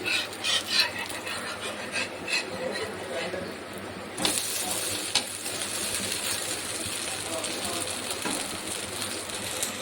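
Spicy karam dosas frying on a hot pan at home, with a steady sizzling hiss that grows louder partway through and occasional clinks of utensils.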